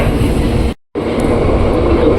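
A KRL commuter train runs toward Jatinegara station, making a loud, dense, steady rumble that cuts out for a split second and then resumes just as strongly.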